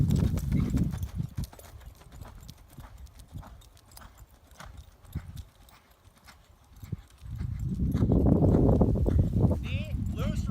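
A barrel racing horse canters a big circle, its hooves beating a steady rolling rhythm close by. The hoofbeats swell, ease off in the middle, then grow loud again, with a voice heard at times.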